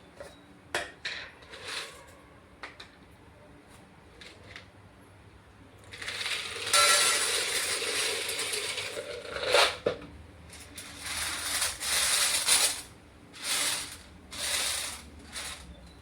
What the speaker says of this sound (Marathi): इकडं पास्ता निवडून घेते